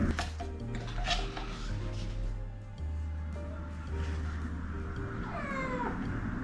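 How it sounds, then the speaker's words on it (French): An indoor house cat throws a fit, yowling and meowing loudly at close range, with one drawn-out falling cry near the end over steady background tones. "Oh là, le chat tape sa crise."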